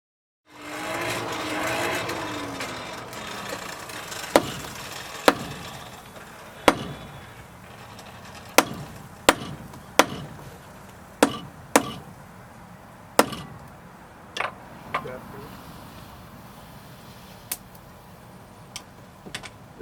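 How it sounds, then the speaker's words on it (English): Strips of iron and steel stacked for a faggot weld and hammered, a run of sharp ringing metallic strikes at irregular intervals over a low steady roar, loud and close, with no talking. "Which is basically stacking strips of iron and steel and then just whacking them together."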